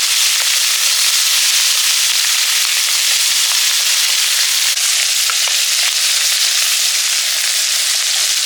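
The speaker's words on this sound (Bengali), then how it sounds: "সর্ষের তেল গরম হয়ে গেছে চুনো মাছগুলো দিয়ে দিলাম" Small fish sizzle and spit in hot mustard oil, a loud, dense, steady frying hiss with scattered pops and crackles throughout, close up and without voices.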